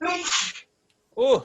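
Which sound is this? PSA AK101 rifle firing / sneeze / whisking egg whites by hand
sneeze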